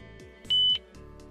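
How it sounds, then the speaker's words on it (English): A single electronic beep from a car audio system's preset button being held to reprogram a station, a steady tone lasting about a quarter second, clear and close, over a faint low background hum. "Select and hold the preset button you'd like to reprogram until you hear a beep"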